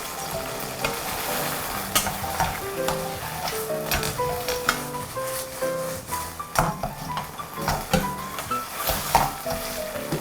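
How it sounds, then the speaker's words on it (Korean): Fried chicken pieces stirred into a thickened sauce with bok choy and green pepper in a hot pan for lazi chicken, giving a steady sizzle broken by frequent scraping and clattering of a spatula against the pan. "튀겨낸 닭고기를 넣고 섞어주세요."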